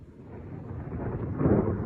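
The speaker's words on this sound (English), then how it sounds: "Oh, lightning! We got thunder snow!" Thunder rolls during a heavy snowstorm in Oswego County, New York: a deep, muffled rumble that swells toward the end of the short stretch.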